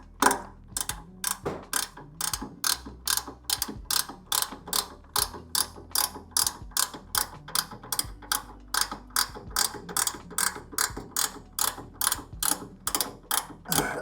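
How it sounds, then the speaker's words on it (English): A hand ratchet clicks in a fast, even rhythm, close and distinct, as it tightens a bolt holding a 12-inch impeller in place, with a faint mechanical hum underneath. "go ahead and tighten it up"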